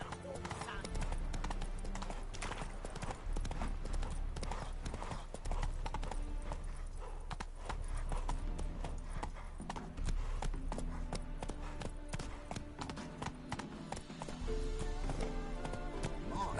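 Hooves of a horse galloping in the video game The Witcher 3 give a rhythmic clip-clop that continues under voices talking and a game soundtrack.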